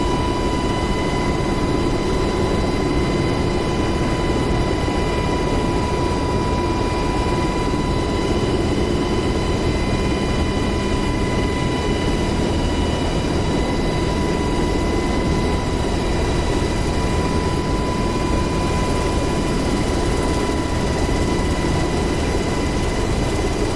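A UH-60L Black Hawk helicopter in the DCS World flight simulator over the Syria map, pitching forward to gain speed, gives a steady, loud, dense engine and rotor drone with a constant high whine, unbroken and with no voices.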